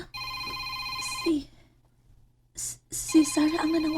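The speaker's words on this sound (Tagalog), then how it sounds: "May nanawag." A telephone rings with an incoming call in a Filipino drama scene, its electronic ring tones repeating loudly, breaking off and then resuming, with brief speech-like sounds near the end.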